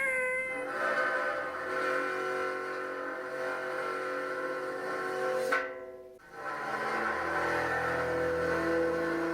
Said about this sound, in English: We love bowing music stand.